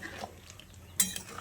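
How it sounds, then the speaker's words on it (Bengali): A utensil stirs water into a drumstick curry in a pot, with soft scraping and one sharp metallic clink, close and fairly quiet. "তো জলটা দিয়ে খুব ভালো করে নেড়েচেড়ে মিশিয়ে নিয়েছি।"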